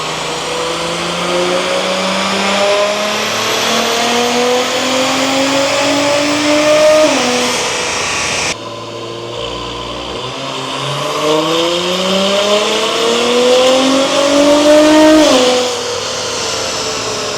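A 2024 Acura Integra Type-S (DE5) with a carbon intake pulls two loud full-throttle dyno runs, the engine note climbing steadily through the gears before each sharp lift-off, close and unbroken, with no voices.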